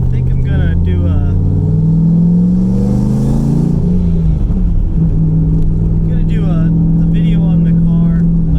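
A turbocharged IROC car cruises with a loud, steady engine drone and low rumble that holds through the whole stretch, while someone talks over it.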